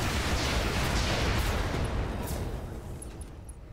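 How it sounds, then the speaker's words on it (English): Heavy rifles mounted in a battle mech's arms fire all at once in Roguetech, a dense, loud roar of booms that rumbles on and slowly fades, with a few faint high clicks near the end. "Heavy rifles in the arms. Let's fire everything."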